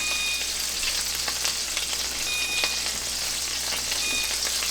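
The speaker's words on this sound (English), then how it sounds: "it's coming up, starting to simmer, boil, fry, any way you want to look at it" Beef stroganoff simmers and fries in a pan with a steady, dense sizzle and crackle, close and constant throughout, with no voices.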